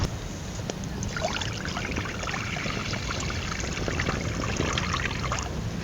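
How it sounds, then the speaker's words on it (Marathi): Water poured into an iron wok set on a wood-fired village stove, a steady close splashing and trickling rush that holds for several seconds without speech. "त्यासाठी आपण ह्या कढईत पाणी घालूया"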